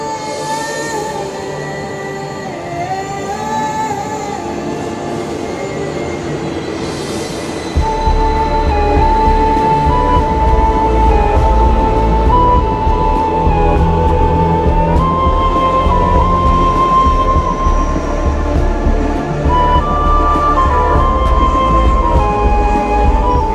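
A metro train runs along the track with a steady mechanical whine and hum, joined partway through by a louder, deeper rumble that carries on to the end.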